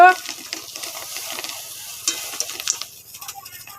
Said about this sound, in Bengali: জলটা ফুটে উঠলে সয়াবিন বড়িটা কড়াতে দেব বড়িটা এবারে কড়াতে ঢেলে দেব